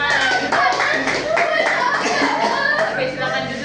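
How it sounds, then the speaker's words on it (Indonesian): Classroom of students clapping during a microteaching session, brisk rhythmic clapping close by, mixed with children's chatter and some laughter throughout. "Oke, tepuk tangan."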